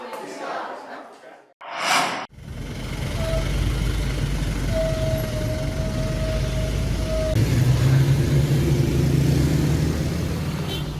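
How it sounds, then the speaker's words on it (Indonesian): Trucks, buses and private cars queue to refuel with diesel and petrol at a busy petrol station in Jasri, Karangasem, Bali, a steady loud traffic rumble with an engine drone and a brief horn-like tone, after a short burst of noise. "Puluhan truk, bus, dan kendaraan pribadi antre untuk mengisi BBM bersubsidi jenis solar dan pertalite di SPBU Jasri, Karangasem."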